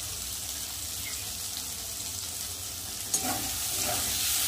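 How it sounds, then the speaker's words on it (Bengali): Chicken gizzard and liver fry in a pan with a steady, dense sizzle; chopped tomato drops in with a brief clatter, and the frying hiss swells slightly afterward. "দিয়ে দেবো কেটে রাখা টমেটো।"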